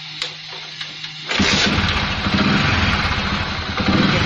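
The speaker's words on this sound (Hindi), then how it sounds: "अभी स्टार्ट करके देखते हैं, स्टार्ट होती ही नहीं होती बाइक" A motorcycle, just repaired for a starting fault, fires up after a few faint clicks and settles into a loud, steady idle close by, with no one talking.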